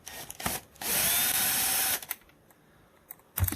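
A power tool whirring as it backs out the oil pump bolts on a Yamaha R6 engine, with one loud sustained burst of about a second and shorter blips and clicks around it, close up.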